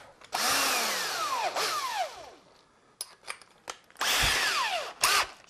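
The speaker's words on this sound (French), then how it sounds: "on va faire un petit trou vite fait ici" A power drill bores a small hole in metal: two loud, close whining bursts that rise and fall in pitch, separated by a gap of short stops and starts.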